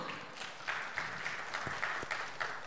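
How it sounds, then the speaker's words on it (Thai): An audience at a technology seminar gives sustained applause welcoming a speaker, a steady, moderately distant wash of many hands clapping with a few louder claps standing out. "ขอเสียงปรบมือด้วย"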